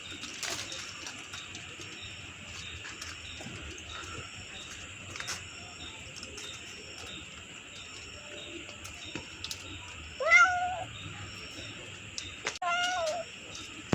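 A cat meows a couple of times while climbing down from a tree, the short calls standing out over faint outdoor bird and insect noise.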